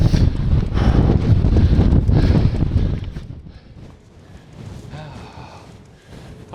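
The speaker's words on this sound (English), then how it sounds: "Definitely wind." Strong wind buffets a microphone out on open moorland bridleways while mountain biking, heavy low rumble for the first three seconds, then easing to gusty, uneven blasts with a voice partly audible underneath.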